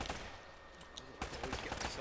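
Rapid gunfire from the video game Uncharted: Drake's Fortune, bursts of shots and fusillade rattling continuously through a dense, noisy mix with a sharper cluster in the second half.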